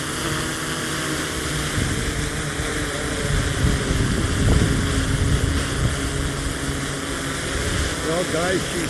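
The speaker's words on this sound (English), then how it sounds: "the Mavic 3 Pro can handle the wind fairly good" A steady propeller whine of a DJI Mavic 3 Pro drone hums over a strong, continuous low wind rumble, with the buzzing holding level throughout.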